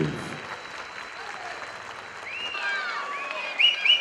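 Crowd applause for the winner at an enduro race award ceremony, a moderate continuous patter of clapping with whistles and high tones rising near the end.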